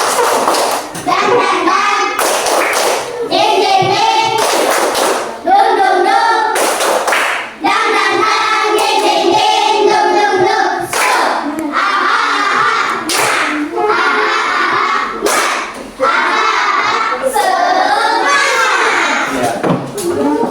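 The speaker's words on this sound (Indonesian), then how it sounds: "Tepuk semangat." Schoolchildren in an Indonesian classroom clap a rhythmic spirit chant (tepuk semangat) together, a dense run of sharp, evenly patterned group claps mixed with their chanting voices, loud and close throughout.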